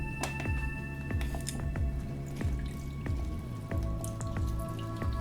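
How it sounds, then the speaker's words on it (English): A Cara Cara orange is hand-juiced for a Golden Dream cocktail, giving soft wet squishing and repeated dripping splashes at a steady close rhythm, with faint clicks and no talking. "Next, we're going to go ahead and juice an orange."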